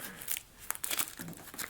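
Cards for a solo playthrough of the board game Myth are shuffled by hand in quick, close bursts of crisp riffling and crinkling, fairly quiet with brief pauses.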